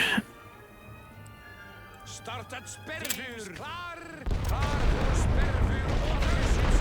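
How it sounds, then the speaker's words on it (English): Artillery barrage in the WWI strategy game The Great War: Western Front, heard as scattered booms and whistling shells that give way to a dense, continuous rumble of heavy fire, loud throughout. "The light barrage is doing a great deal, but we want to sort of go over the top soon."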